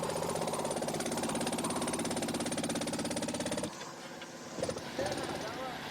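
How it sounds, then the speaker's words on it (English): Power tools hammer against frozen permafrost at a mammoth excavation, a dense, rapid mechanical pounding that runs steadily for several seconds before cutting out, followed by gusty wind noise and a brief clatter. "Shouting encouragement over the cacophony of wind and power tools, they punch their way through the permafrost"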